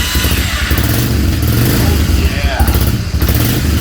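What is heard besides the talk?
old Honda ATV engine starting and running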